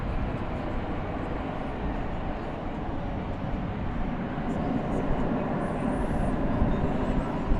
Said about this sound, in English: it's an American Eagle CRJ 701ER going out